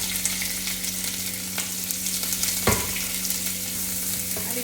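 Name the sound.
green chilli and sliced onion frying in oil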